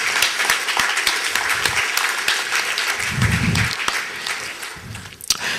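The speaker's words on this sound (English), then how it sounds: "can you give yourselves a huge round of applause for making our event such a monumental success?" Conference audience at a testing event breaks into sustained applause, dense clapping filling the room loudly throughout, with a few louder isolated claps and brief murmurs near the end.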